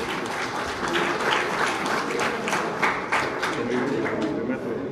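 A conference audience claps steadily for the minister of justice, a dense, sustained round of applause with scattered sharper hand claps and a voice speaking over it.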